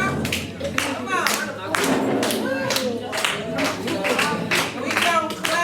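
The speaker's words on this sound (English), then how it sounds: "We gonna clap like counterclockwise." A group stands and claps hands together in a steady rhythm, a run of sharp, loud claps evenly spaced, close by.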